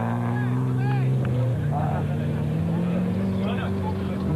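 Woolridge Ranger off-road race car in the Baberspan 500 2002 idling past, a loud low engine drone with a slowly shifting pitch that stays steady throughout, overlaid by a commentator's voice.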